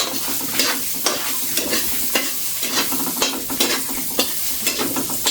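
Garlic sizzles and crackles steadily in a hot frying pan, with repeated sharp scraping strokes of stirring cutting through the frying noise at an uneven rhythm, close and fairly loud.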